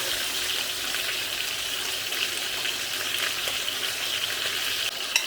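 Zucchini and potatoes fry in a pan with a steady, close, continuous sizzle and crackle that holds level throughout, with no talking.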